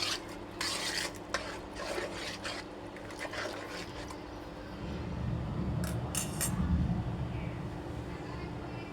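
A spatula stirs food in a pan on a home stove, with scraping and rubbing strokes that grow denser and louder toward the end, faint sizzling beneath and brief speech early on.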